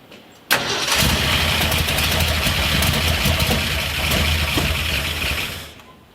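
A forgotten 1970 Ford F100 Ranger pickup engine cranks and fires with a sudden loud catch after fuel is poured in, runs roughly at a rumbling idle for about five seconds, then fades as it stalls.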